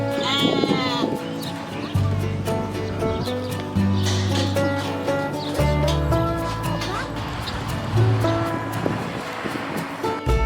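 Goats and sheep bleating at a Michigan farm, several loud nasal cries in short bursts through the clip over a busy outdoor background.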